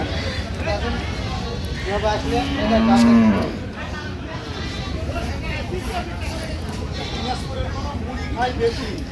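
Sahiwal bulls at a busy cattle market in Narayanganj, one loud low moo rising near the middle and other cattle calls scattered throughout, with crowd chatter and voices talking over it.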